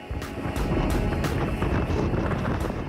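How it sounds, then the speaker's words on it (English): Strong wind on an exposed hilltop overlook in Healy, Alaska roars and buffets the microphone continuously, a loud low rumble with gusting surges throughout. "The wind was crazy, and it comes up over that valley there."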